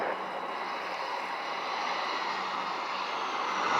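An airplane arrives at Montego Bay airport in Jamaica with a steady, broad jet engine roar that holds fairly loud throughout and swells slightly toward the end.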